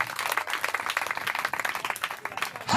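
A church congregation applauds and cheers for Jesus with dense, continuous clapping mixed with voices, steady throughout and ending abruptly.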